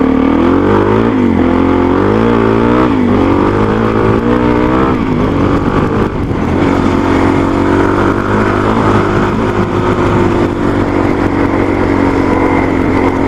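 A dirt motorcycle fitted with a stock Yoshimura muffler insert, ridden out on mudflats, gives a steady close engine drone that rises and falls in pitch through repeated revs and throttle changes, loud and continuous without talk.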